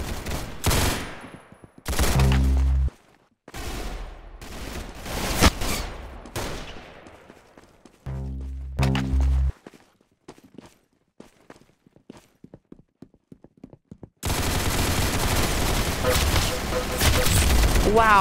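Gunfire in the Roblox shooter Arsenal: loud bursts of automatic fire and single shots, booming impacts and footsteps, then dense sustained shooting near the end, with a voice talking over parts of it.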